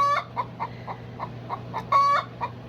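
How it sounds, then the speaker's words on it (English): Hens cluck in a quick, rhythmic series of short calls, close by, with a couple of longer drawn-out notes among them. "my hens make sounds when they're doing different things like laying eggs"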